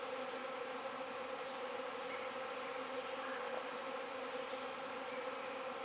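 A swarm of feral honeybees clusters in a tree, producing a dense, continuous buzzing hum that holds steady and fairly faint throughout, with no voices.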